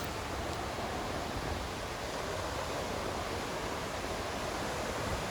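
Sea waves at Bandra Bandstand in Mumbai wash in as a steady, dense roar of surf that stays even and loud across the whole stretch, with no voices and no distinct breaks between swells.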